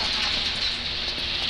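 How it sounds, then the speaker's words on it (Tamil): Rain falls in a video game, a steady dense hiss of drops hitting surfaces, even and continuous for the short span with no voices on top. "உண்மையில இல்லை, இந்த கேமில் மழை வந்துட்டு ஆரம்பிச்சிச்சு"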